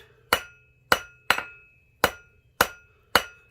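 A hammer planishes a copper bangle over an anvil in sharp, evenly spaced metallic strikes, seven ringing blows, each decaying quickly, near and alone.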